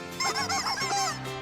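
A played song recording has other chickens clucking along, a short burst of layered honking, squawking calls over music, loud and close with no talking.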